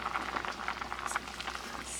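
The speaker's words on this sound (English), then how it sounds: "Simmering nicely." Fiddlehead cream soup simmers in a pot on the stove, giving a soft, steady bubbling with small pops and light crackles throughout, moderately quiet and with no voices.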